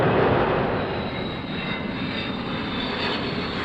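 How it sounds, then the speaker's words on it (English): A de Havilland Comet 1 jet airliner powered by four Ghost 50 turbojets gives a steady, broad jet roar that holds fairly constant at moderate loudness throughout, with no voices. "Comet 1, powered by 4 de Havilland Ghost 50 turbojets, cruising speed just under 500 miles an hour"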